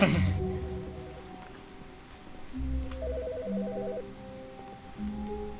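A telephone rings in The Stanley Parable video game, with repeated electronic warbling ring bursts and a brief low tone between them, clear and fairly close after a short noisy start.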